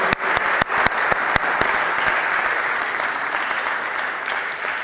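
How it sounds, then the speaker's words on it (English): Audience members at a Bach in Space concert applaud themselves as successful astronauts, with a steady wash of clapping and a few sharp, close claps standing out at the start. "you may now applaud yourself as successful astronauts"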